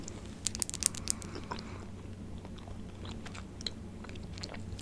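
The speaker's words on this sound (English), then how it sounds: "the first couple chews, you gotta get your mouth used to the gum" Gum chewing up close for an ASMR whisper session, with wet, crinkly chomps clustered early and then softer, irregular smacks continuing quietly through the rest.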